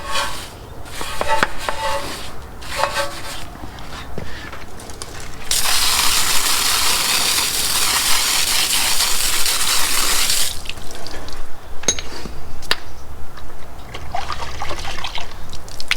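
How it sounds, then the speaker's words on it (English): A road-salt-crusted car wheel is cleaned with water, a steady spray hissing for several seconds amid dripping, trickling and short scrubbing and clicking noises nearby, with no talking. "Now if your wheels aren't that dirty, you don't even have to scrub it, but these ones are."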